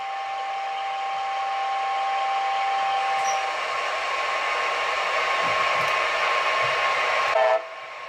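A sound-equipped HO-scale Bachmann ALC-42 Charger model locomotive with TCS sound plays a steady diesel prime mover drone with a low rumble for several seconds, then drops abruptly near the end, leaving a quieter hum.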